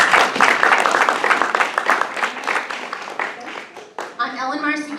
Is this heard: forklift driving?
no